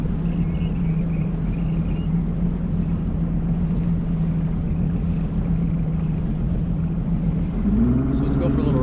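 A boat's outboard motor runs steadily on Potholes Reservoir, a loud continuous droning rumble that shifts in pitch near the end as the motor is trimmed.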